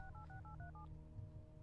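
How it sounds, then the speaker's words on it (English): A telephone in a phone booth in the Serious Sam video game is dialed, giving six quick touch-tone beeps in an even rhythm over a steady low hum, with no voices. "And now Sam is making a phone call"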